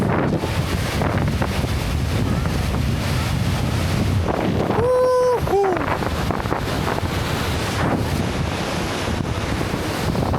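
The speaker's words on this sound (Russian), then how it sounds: "Я почти уверен, что камера вообще не передает мощь этого водопада." A loud, constant roar of a powerful waterfall with wind buffeting the microphone; a brief whistling tone cuts through midway.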